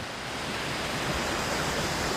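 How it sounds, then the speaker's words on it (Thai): A small waterfall flows in a natural outdoor setting, making a steady, even rushing hiss of falling water that stays constant throughout and sounds close, with no voices. "เป็นน้ำตกเลยดูดิ เนี่ย น้ำตกย่อมๆเลย"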